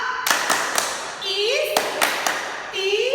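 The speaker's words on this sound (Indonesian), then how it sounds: "Kita mau tepuk istimewa." Children at an online Sunday school service for HKBP Cawang church perform the 'tepuk istimewa' clapping routine, a few sharp claps in a patterned rhythm mixed with a sung chant and speaking voices.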